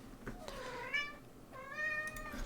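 A cat meows twice in the background, two drawn-out rising-then-falling calls about a second apart, soft and somewhat distant over quiet room noise.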